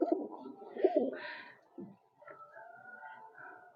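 Pigeons in a loft, a black-speckled male and its hen among them, give soft, close cooing calls in a few low rolling phrases, followed by fainter chirps and faint background voices.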